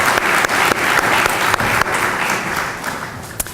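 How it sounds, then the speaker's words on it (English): Loud, steady applause from an audience for a speaker who has just shared a testimony, with many hands clapping densely and a few sharper individual claps standing out as it gradually thins. "Let's give him a round of applause again."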